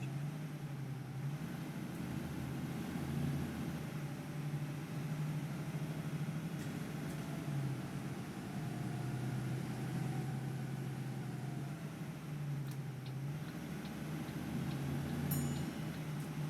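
A Volvo Dublin bus engine in the OMSI 2 game, a steady low diesel drone running continuously with slight swells in intensity, fairly quiet and with no talking.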